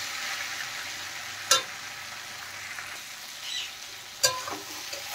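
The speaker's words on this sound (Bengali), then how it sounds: "তো এইভাবে কিন্তু পুরো সবজিটা আমি একটু কষিয়ে নেব ভালো করে।" Vegetables with tomato and spices sautéing in a pan, a steady close sizzle with two sharp scrapes of stirring and a few softer clinks, no voices.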